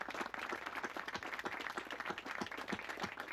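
Audience applause at a groundbreaking ceremony for a university track-and-field project, a dense, steady wash of many hands clapping close by, sustained through the whole stretch with no voices over it.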